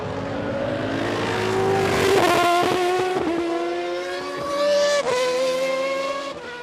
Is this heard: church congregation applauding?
no